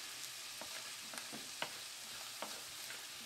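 Small pieces of ground hamburger meat fry in a pan with a dense, continuous sizzle, punctuated by occasional scrapes and taps of a stirring utensil, close and with no talking.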